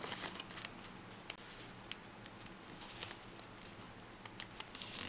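Origami paper being folded toward the center and creased for a modular action-origami spinning top, giving soft close crinkles and sharp crisp snaps scattered irregularly over a quiet background.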